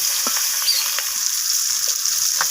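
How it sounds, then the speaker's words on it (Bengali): Rohu fish pieces fry in hot oil, a steady close sizzle with occasional sharper pops and crackles throughout, no voices. "তো এই মাছগুলোও আমি লালচে করে ভেজে নেব"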